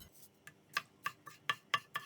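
A kitchen knife chops green onions on a cutting board for soup, a steady series of sharp taps roughly every quarter second, close and quiet with no talking.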